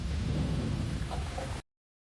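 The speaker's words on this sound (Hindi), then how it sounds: "बाहर तूफान है, बिजली कड़क रही है" Storm noise in an animated Urdu/Hindi story: a dense, steady roar of thunder and rain fills the clip loudly and without voices, then cuts off abruptly into silence.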